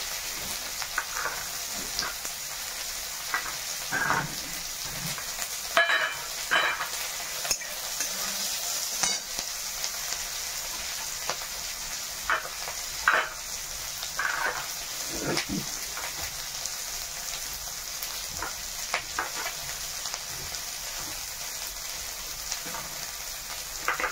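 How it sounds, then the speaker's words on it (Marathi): Onion and unripe green tomatoes frying in a pan for a chutney give a steady, close sizzle, broken by scattered stirring scrapes and spatula knocks, with no talk. "आता टमाटर पण भाजायचं टाकायचं"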